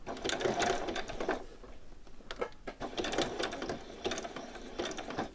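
A sewing machine runs a back stitch through thin t-shirt knit fabric, its rapid needle chatter close and steady in short bursts with brief pauses between runs.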